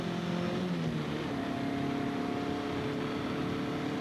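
Car engine holding a steady drone as it goes through a turn on a racing circuit, pitch easing down then settling, continuous and close with no talking over it.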